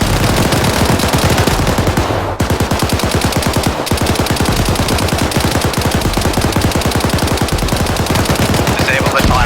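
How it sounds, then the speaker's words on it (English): Heavy machine gun hammering away in the military shooter Arma 3, a loud, steady stream of rapid rounds with one short break near the start, close and relentless over the whole stretch. "HMG set up. Get it. Light him up."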